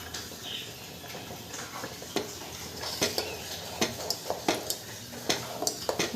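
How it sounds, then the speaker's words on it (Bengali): A spoon scrapes and clinks against a pot while payesh made with jaggery is stirred, with a soft simmering hiss underneath and irregular taps growing sharper and more frequent toward the end. "এটাকে বারবার নাড়তে হবে এভাবে।"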